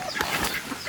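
A chicken on a farm gives a quick, close burst of clucks lasting under a second.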